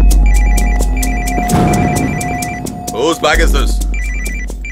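A mobile phone ringtone chirps in a repeating electronic pattern, loud and steady, while someone speaks over it and a clatter interrupts midway.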